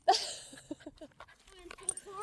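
A hot dog whimpers and yips in short high-pitched bursts close by, with a voice speaking softly around it.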